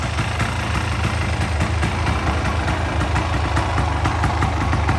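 A 1985 Honda ATC250R three-wheeler's engine runs steadily at idle, a close, loud, continuous rapid putter with even rhythm and no voices.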